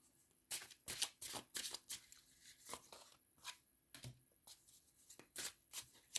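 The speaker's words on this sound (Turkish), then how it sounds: "Son birkaç kart alacağım bu desteği seçenler için." A deck of tarot cards being shuffled by hand, a string of quick riffling bursts at close range that come in irregular clusters with short pauses between them, with no one speaking.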